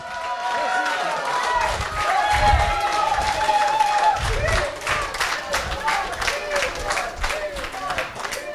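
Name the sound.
audience applauding Eddie Parker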